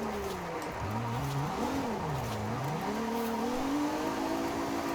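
A Ferrari 296 GTB with its V6 engine driven in Forza Horizon 5, the engine note rising and falling through shifts and revs, with a whooshing, continuous drone close up and no talk.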